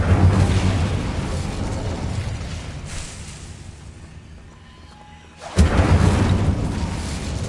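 A fire spell cast in Hogwarts Legacy, a roaring rush of flame that fades to near quiet before a sudden loud blast near the end, then a sustained fiery roar.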